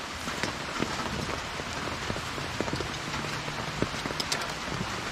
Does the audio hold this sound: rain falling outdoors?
yes